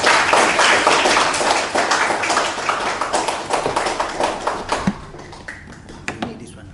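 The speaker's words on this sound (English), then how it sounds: "Please give him a round of applause." An audience applauds to welcome a speaker at a talk on generosity, a loud, dense burst of clapping that thins out and fades after about five seconds, leaving a few scattered claps.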